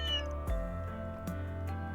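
Cats meowing in the video game Trails through Daybreak 2: about three short, tonal meows in quick succession over a sustained background tone, close and clear.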